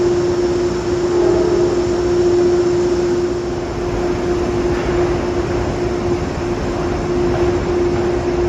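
Locomotive-hauled trains on the upper level of Grand Central Terminal in New York during the evening rush, giving a loud, steady engine drone with a constant tone that holds throughout, with no talk.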